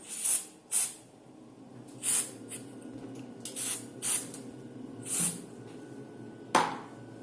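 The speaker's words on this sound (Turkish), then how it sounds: "Dolmasını hızlandırmak için e, sprey kullanacağım." A spray can is sprayed onto a CD and glued cap for a hovercraft model, giving about eight short hissing bursts spaced irregularly over several seconds, close and clear against a quiet background.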